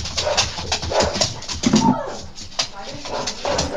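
Pet dogs barking and whimpering at home, a few short yelps and whines scattered close by amid busy background noise with voices talking.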